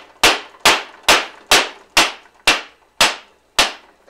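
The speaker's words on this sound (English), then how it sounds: "use a rubber hammer on the threads, just tap it in" Eight evenly spaced sharp taps of a rubber hammer on the threads of a metal tube, each ringing briefly before the next, close and clear.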